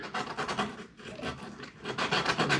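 Sandpaper, 80 grit, scraping over a wooden guitar neck in quick, rhythmic back-and-forth strokes, close and raspy, with a brief pause partway through.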